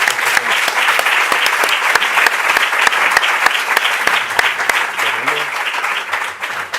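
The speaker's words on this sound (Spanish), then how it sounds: "Un aplauso." Audience at the close of a university conference in Spain gives loud, steady applause, dense clapping from many hands near and far, with a few voices murmuring underneath before it begins to fade.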